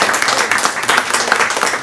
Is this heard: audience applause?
yes